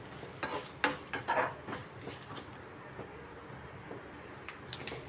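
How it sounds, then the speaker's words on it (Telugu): Peanuts frying in a pan for rava pulihora give a faint, low sizzle broken by a few sharper stirring scrapes near the start, then settle into a quiet, steady crackle. "ఒక స్పూన్ పల్లీలు, ఇవన్నీ బాగా వేగనివ్వాలి."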